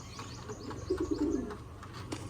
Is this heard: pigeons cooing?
yes